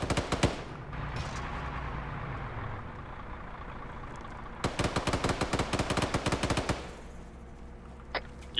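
Shotgun and other gunfire in the video game Arma 3: a few sharp shots early, then a rapid, loud burst of cracks near the end.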